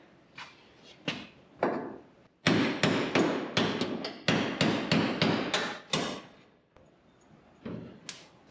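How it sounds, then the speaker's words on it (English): A hammer strikes the new wooden bed floor of a 1965 C10 pickup truck, a few sharp blows and then a fast run of loud, ringing hits, with short pauses between bursts. "that's why I got the hammer"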